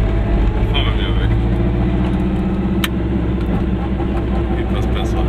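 A car on a road around Zauchen, Wernberg and Lind ob Velden in Carinthia, Austria, gives a steady, close engine drone with a low rumble throughout, and a voice is heard over it.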